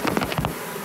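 Honeybees from a vacuum box buzz while being placed into cutout comb, a few short close buzzing bursts in the first half second, then a quieter hum.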